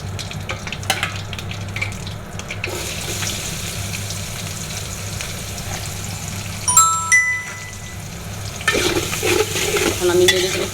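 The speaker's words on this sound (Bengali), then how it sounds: "এখন আমি তেলের ভিতরে পেঁয়াজ দিয়ে দিব।" Onions being fried in oil and stirred in a pan while cooking chicken biryani, giving a steady sizzle with scraping stir sounds and a brief louder burst midway.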